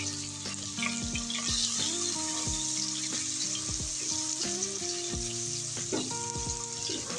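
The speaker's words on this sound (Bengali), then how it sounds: "অনবরত নেড়ে ছেড়ে আমি এখন পেস্টগুলো বেরেস্তা করে নেব।" Onion paste fries in hot oil for egg biryani, a close, steady bright sizzle with occasional stirring, heard alongside a tonal background with falling pitches.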